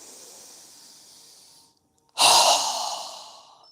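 A strong, forceful exhale during a yoga breathing exercise: a soft breathy inhale, a brief pause, then a loud, sharp rush of air that tails off gradually, close and alone.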